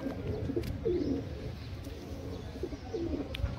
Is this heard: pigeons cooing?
yes